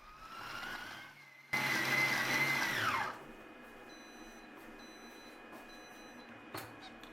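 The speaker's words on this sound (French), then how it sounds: "Lançons une dernière fois la fonction hacher avec un temps de 30 secondes." A Compact Cook Elite food processor chops kimchi paste with fish sauce; a loud motor whir runs for about a second and a half, then winds down into quiet with a few faint beeps.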